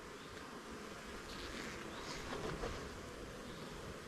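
Honey bees swarm and hum during a Pro-Nuc hive installation, a dense continuous buzz close by with no talking.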